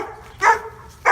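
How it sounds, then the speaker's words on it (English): A dog barks in two short, loud bursts about half a second apart over low background hum. No one speaks. "that dog won't shut up"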